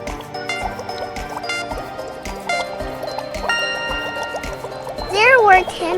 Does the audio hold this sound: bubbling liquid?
yes